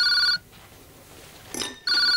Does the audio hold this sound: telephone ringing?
yes